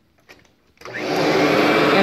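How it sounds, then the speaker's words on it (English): A vacuum cleaner set to its highest position for carpet cleaning and stain removal switches on after a few soft taps, its motor rising quickly into a loud, steady, close roar that holds to the end. "So we're going to go ahead and turn it on"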